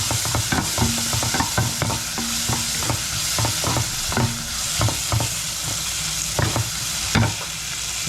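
Garlic fries in a pan with a steady crackling sizzle, broken by frequent scraping and tapping as a utensil stirs it. No one speaks.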